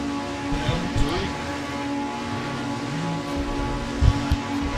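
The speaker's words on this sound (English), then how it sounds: "Listen to those revs." In a racing video game, a Toyota Supra GT4 on the Red Bull Ring grid drones steadily at a race start. The engine note holds fairly even with a couple of brief louder bumps and no speech.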